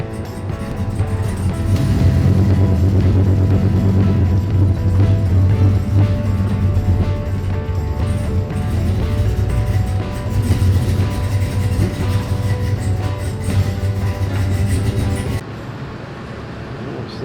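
A car engine with non-working radiator fans, a faulty idle control valve and a bad throttle position sensor idles loudly and close with a steady low hum and rumble, then drops to a quieter tone near the end.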